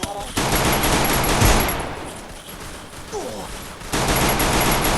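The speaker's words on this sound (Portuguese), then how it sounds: "Tá atirando em mim aqui, ó." Bursts of automatic gunfire from the Free Fire battle royale game, dense rapid shots loud at first, then a quieter stretch of softer scattered fire before the loud volleys return.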